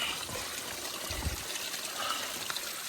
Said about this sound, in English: getting water from the spring